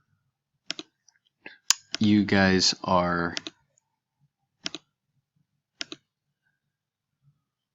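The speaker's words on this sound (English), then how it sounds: "I'm clicking around here." Several sharp computer mouse clicks spaced irregularly, close and crisp, with a brief burst of someone speaking in the middle.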